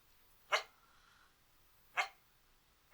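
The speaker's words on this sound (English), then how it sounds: "she is a very vocal dog" A very vocal female dog barks indoors, two sharp, separate barks about one and a half seconds apart, close and fairly loud against a quiet room.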